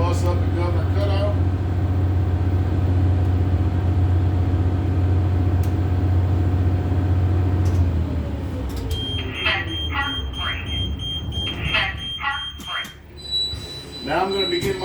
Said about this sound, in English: Now I'm taking the bus up to Governor Cutout.